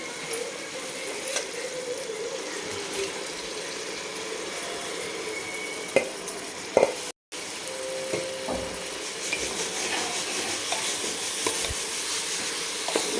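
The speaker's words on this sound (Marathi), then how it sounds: "आणि आपण धुवून ठेवलेले जे तांदूळ होते ते तांदूळ आपण टाकून घेणार आहे" Soaked, washed rice is tipped into a hot pan and stirred, giving a continuous faint sizzle with scraping spoon strokes against the metal and a brief gap partway through, with no voices.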